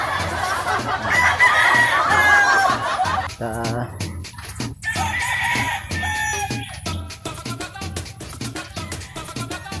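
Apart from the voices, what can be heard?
chickens and roosters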